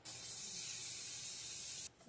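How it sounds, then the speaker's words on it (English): Butter spray hisses from an aerosol can onto two loaf pans in one steady, close burst lasting nearly two seconds, then stops abruptly. "I have 2 loaf pans that I'm going to go ahead and cover in spray butter right now."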